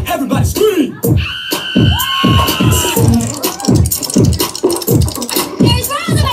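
A live audience at a lip-sync medley show screams and cheers in loud, continuous bursts, with high whoops and shouts piercing the roaring crowd throughout.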